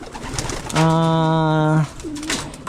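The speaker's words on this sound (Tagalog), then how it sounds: "Lakas ng loob ng kalapating ito." A pigeon calls at a backyard pigeon loft with one loud, sustained, low cooing note lasting about a second, followed by a shorter, quieter call against faint background noise.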